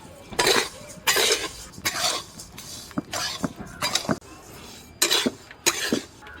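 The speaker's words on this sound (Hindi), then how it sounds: "ये जो मोटा मोटा दलिया जो हम रखे हैं इसको डाल देंगे कढ़ाई में" Coarse wheat dalia being roasted in a kadhai on medium heat, heard as a series of bursts of dry grain rattling and scraping against the metal pan, with brief clinks between them.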